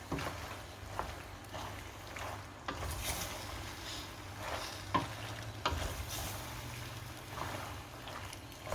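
Pasta carbonara with Parmesan and egg stirred in a hot pan, a soft low sizzle under repeated scraping and clacking of a utensil, irregular strokes through the stretch, no voices.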